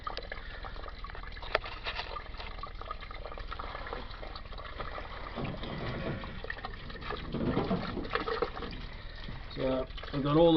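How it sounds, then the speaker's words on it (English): Water from a washing machine with a blocked pump drains out through a hose in a steady, close, rushing trickle that grows slightly louder and more gurgling toward the end. "just drop this end of the hose down behind there, and let the water drain out."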